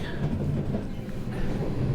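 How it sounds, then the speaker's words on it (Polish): A tram rumbles along steadily at close range as it arrives at a stop in Poznań, a low continuous rolling drone with faint rail noise and no voices. "Za chwilę wjedzie tramwaj na ten przystanek."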